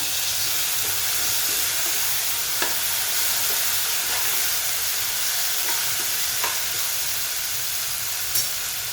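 Chopped tomato frying in a pan for palak paneer, a steady, close sizzle and hiss with a few faint clinks of stirring throughout, without speech.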